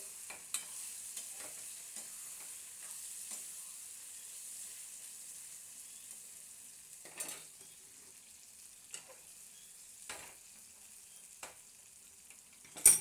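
A pan of katla fish oil curry with two split green chillies being stirred, giving a faint continuous sizzle with occasional soft scrapes and taps of the spoon, and one louder clank at the end.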